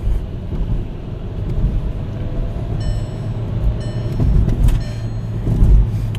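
Steady engine and road rumble from inside a Skoda Yeti 1.2 TSI with an ignition misfire on cylinder four, driving on a cold engine, a continuous loud low drone with some wind noise.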